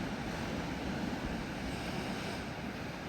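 Ocean waves surging and splashing into a rock crack on the Oregon coast, a steady broadband wash of surf with wind across the microphone, moderately quiet and with no talk.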